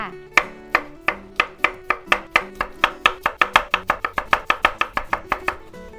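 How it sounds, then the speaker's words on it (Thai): A knife chops cucumber on a cutting board in a steady run of crisp, close knocks that speed up toward the end, with soft background music underneath. "หั่นแตงกวา"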